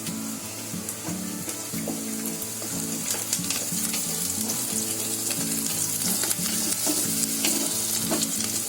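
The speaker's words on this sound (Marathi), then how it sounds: "कांदा मिरची झाले फ्राय. त्याच्यामध्ये मी कढीपत्त्याची पानं टाकते बघा." Onion, green chili and curry leaves fry in hot oil while poha is prepared, giving a steady, dense sizzle with scattered crackles and occasional stirring clatter throughout, fairly loud and close, with no voices.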